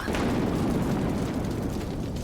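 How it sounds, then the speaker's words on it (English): Thunder sound effect: a deep, continuous booming rumble that roars loudly and evenly throughout, with no voices. "Dark clouds, ear-splitting thunder, and a non-stop downpour trying to smother Agni's blaze."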